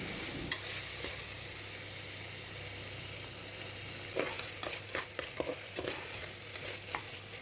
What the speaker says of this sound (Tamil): தக்காளி சேர்த்துட்டு இது ஒரு 2 to 3 நிமிஷம் நல்லா வதக்கி விட்டுக்கலாம்